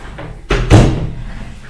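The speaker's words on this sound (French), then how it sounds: "On va gentiment frapper à la porte." Two heavy thuds on a door, the second louder, in a quiet room, as if someone knocks or bangs once or twice.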